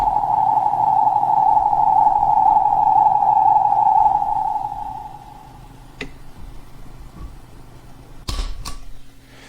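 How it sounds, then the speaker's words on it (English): A Donner digital reverb guitar pedal produces a sustained feedback tone that rings steadily for several seconds, then fades, followed by scattered clicks and a sharp burst of noise. "Hopefully you can hear all the noise that the pedal can generate."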